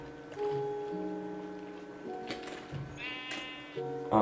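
Sheep in the Minecraft survival game bleat in a desert setting, with a couple of short, wavering bleats standing out near the end against steady background music.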